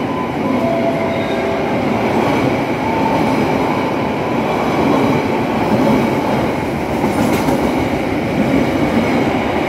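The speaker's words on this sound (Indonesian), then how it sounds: "Argo Bromo Anggrek melintas di stasiun Tegal." An Argo Bromo Anggrek passenger train passes through Tegal station with a loud, steady rumble and rolling wheel noise that holds throughout, with a faint squeal of wheels near the end.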